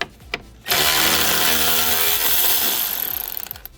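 A power tool works on the 10mm radiator fan bolts of a 2010 Mercedes ML350 4MATIC, whirring loudly and continuously at close range after a brief start, then rattling in quick pulses as it winds down.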